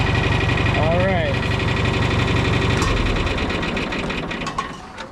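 A John Deere 3010 tractor engine idles with a close, steady chugging rumble, slowing near the end as it settles, while a person talks over it.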